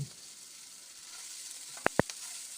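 Bhindi masala frying as chaat masala is stirred in, a faint steady sizzle under two sharp spoon-against-pan knocks near the end, no talk.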